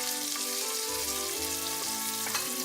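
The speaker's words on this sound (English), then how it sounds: "turn down the fire a little bit, and then just throw in the rest of that shrimp." Shrimp frying in a pan over a lowered flame, a close steady sizzle with faint stirring, brief and without any speech.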